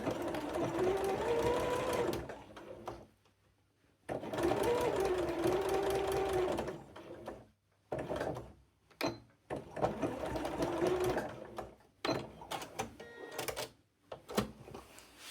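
A sewing machine stitching bias binding in bursts of fast whirring, running forward and then in reverse with short pauses between runs, close up, with someone speaking between passes.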